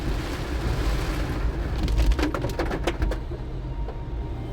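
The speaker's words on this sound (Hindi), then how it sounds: "बारिश काफ़ी तेज़ हो रही है" Steady heavy monsoon rain roaring with a dense wash of noise, heard from a car crossing Hoskote toll plaza, mixed with low vehicle rumble and a few sharper clicks partway through. No talking.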